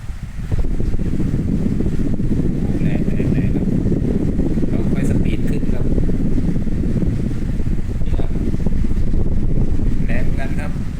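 Brushless fan motor running at its second speed setting, a loud, steady whooshing whir of moving air with broadband buffeting throughout.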